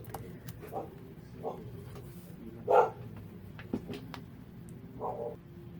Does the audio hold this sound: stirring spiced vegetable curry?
no